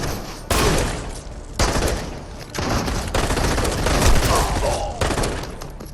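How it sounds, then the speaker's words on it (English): Gunfire and explosions from the VR shooter Crossfire Sierra Squad on PSVR2: dense, loud bursts of rapid shots and heavy booms roll almost continuously, separated by a few brief gaps. "The gun sounds all sound good, explosions sound impactful"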